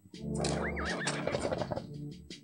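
A horse in a video game lets out a loud, close, wavering whinny that rises and falls and ends in snorting, with faint clip-clop hooves at the end.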